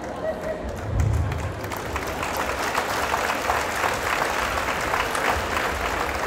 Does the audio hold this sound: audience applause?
yes